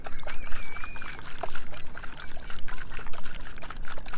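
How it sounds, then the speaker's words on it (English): Seawater pours from a bottle through tights into a container, making a steady splashing trickle that lasts about four seconds, loud and close. "you're going to pour the bottle of seawater into a container so that everything that's inside gets filtered"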